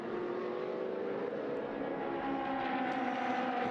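Race car engine in a Trofeo Pirelli race at Paul Ricard, a loud sustained roar with a rising pitch as it accelerates, steady and close throughout.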